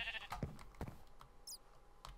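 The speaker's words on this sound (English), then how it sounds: "Shut up, sheep." Sheep bleating in the Minecraft video game, a few short nasal bleats close by within about two seconds, with no talk over them.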